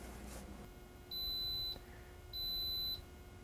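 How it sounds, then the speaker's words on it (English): An Instant Pot pressure cooker signals that cooking is done with two long, steady electronic beeps spaced about a second apart, clear over a quiet kitchen background. "That's my Instant Pot telling me the cooking is done."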